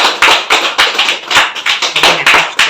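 Loud clapping from a gathered crowd at a local Karnataka Rakshana Vedike meeting where new office-bearers are being chosen, heard as a dense burst of close, sharp hand claps that swell and dip in quick pulses.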